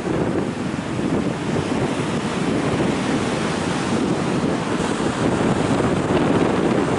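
Heavy waves surge and break against a rocky shore near Ratnagiri, India, throwing spray in a constant loud rush, with wind rumbling across the microphone and no voices.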